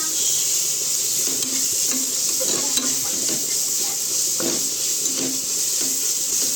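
Ginger garlic paste frying in a pan with tomato for a village-style egg biryani, a constant loud sizzle with occasional stirring scrapes, no talk.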